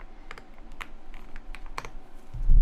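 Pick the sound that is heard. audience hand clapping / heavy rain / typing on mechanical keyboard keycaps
typing on mechanical keyboard keycaps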